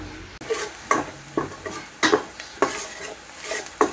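Garlic sautés in a saucepan for home-style spaghetti, a sizzle punctuated by about eight sharp, rhythmic scrapes and clinks of a utensil stirring against the pan, close and distinct.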